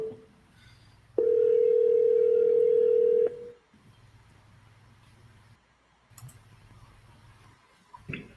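A telephone line gives a steady, loud dial tone for about two seconds, followed by faint clicks and a low hum as the number is dialed, then brief clicking near the end.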